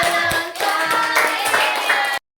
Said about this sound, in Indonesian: Ya, aplaus.